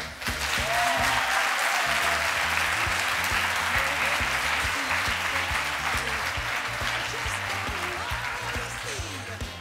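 A large audience at a birthday event for a decoration and design magazine applauds steadily and loudly for nearly ten seconds, a dense wash of clapping that eases slightly toward the end.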